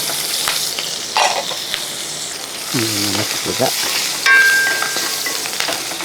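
Chopped green chillies and curry leaves sizzle in hot oil in a pan, with a steady frying hiss and a few brief stirring scrapes and clatters.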